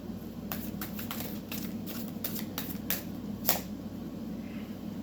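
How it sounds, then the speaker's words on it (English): Tarot cards being shuffled by hand, a quiet series of soft, crisp riffling snaps and flicks spread irregularly across the stretch, with one louder slap near the end over a low background hum. "Give it another shuffle."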